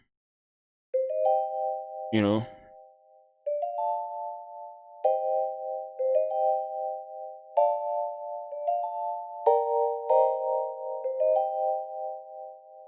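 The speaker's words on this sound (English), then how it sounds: "It's a kind of bell, but I kind of use it like an e-piano." A Chromophone mallets French vibe bell preset in FL Studio, played like an e-piano for an Afrobeats track, rings out clear chordal notes in a bouncy repeating pattern, loud and up front, with a brief spoken voice near the start.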